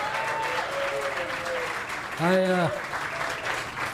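A live audience gives a big round of applause for a football coach: dense, steady clapping throughout, with a voice speaking briefly over the crowd.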